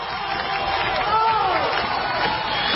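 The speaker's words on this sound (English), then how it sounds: "Let's give him a great big round of applause." Studio audience of a radio talk show breaks into sustained applause and cheering for a departing guest, a dense, steady wash of clapping and crowd noise lasting a few seconds with no pause.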